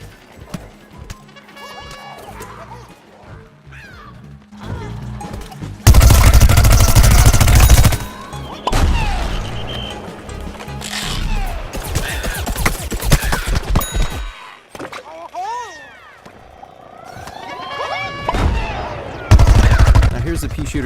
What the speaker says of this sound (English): Here's the pea shooter using the Gatling attack again.